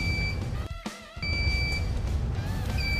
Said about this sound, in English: If the bed is plugged into the mains and is not braked, it starts to emit an intermittent audio signal immediately.